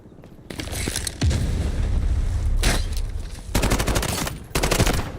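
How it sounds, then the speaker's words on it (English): Grenade blasts and heavy gunfire in an Xbox first-person shooter match, loud booming bursts and rattling shots repeating across several seconds with brief lulls between them. "It's a grenade, not what I meant to do."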